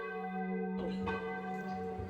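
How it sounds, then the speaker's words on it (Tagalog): A church bell in a quiet town rings with a sustained, resonant tone, one clear strike blooming near and loud, its hum lingering over the short span. "Ang tunog ng kampana ay tumatago sa tahimik na bayan"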